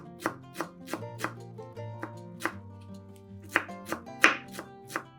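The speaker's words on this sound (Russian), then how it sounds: "Небольшой пучок укропа очень мелко нарезаем ножом." A knife chops steadily on a cutting board, crisp evenly spaced taps over a soft sustained musical background.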